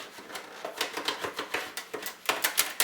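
A knife slicing open the packaging of smoked turkey legs, with a quick run of close, crisp cutting and tearing strokes in an uneven rhythm.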